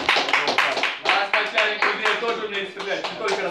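Applause at a sport shooting award ceremony: a crowd claps steadily and densely for a few seconds, close and fairly loud, with voices mixed in.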